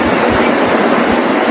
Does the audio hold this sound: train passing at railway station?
yes